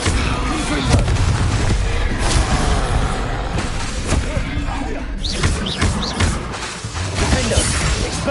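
Confringo fire-blast spells exploding in Hogwarts Legacy combat, a dense run of loud booms and crashes with sharp bursts overlapping throughout, game noise and effects layered thickly.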